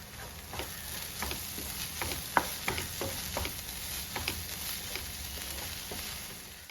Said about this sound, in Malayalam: നമുക്കിത് ഇടക്കിടക്കൊന്ന് ഇളക്കി കൊടുക്കണം.